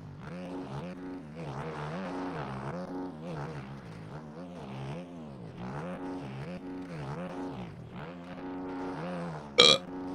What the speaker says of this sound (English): You just made me crash by burping